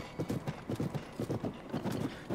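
Horse hooves clip-clopping in the video game Zelda: Tears of the Kingdom, a quick steady trot of close, distinct hoof beats with no talk.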